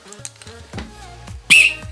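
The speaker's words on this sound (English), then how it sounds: "every coach needs a whistle" A short, shrill coach's whistle blast rings out near the end, loud and close, after a stretch of quieter shuffling sounds.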